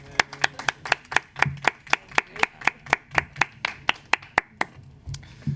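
A quick round of clapping at a city council committee meeting, heard as about twenty sharp, evenly spaced claps in a steady rhythm, close and fairly loud, with no talking over them.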